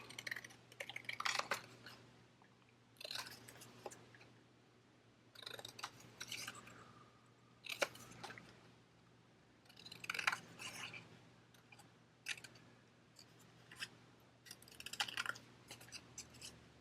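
Scissors trim a cutout from a paper bag, soft crisp snips and rustles coming in repeated clusters over a faint steady hum, close and quiet, with no talking.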